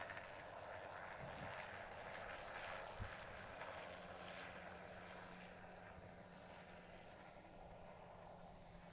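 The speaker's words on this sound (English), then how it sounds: "Helicopter's back. Must be doing some test flights today." A helicopter on test flights passes over an outdoor beep baseball field, a steady broad rotor and engine drone holding at moderate level for the whole stretch, distant rather than close, with faint crowd ambience beneath.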